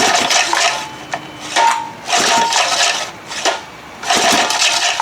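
A 1974 Johnson 25 hp outboard motor is pull-started by hand, three loud rasping cranking bursts separated by short pauses, the engine not catching.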